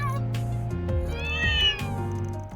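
Several cats meow in turn at a gathering of cats in the video game Trails Through Daybreak, with clear, close, overlapping mews and drawn-out calls.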